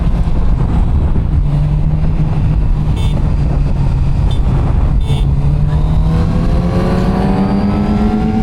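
A 2025 Honda CBR1000RR-R Fireblade SP inline-four motorcycle pulling hard in fourth gear, engine pitch climbing over constant heavy wind buffeting, loud and close throughout without speech.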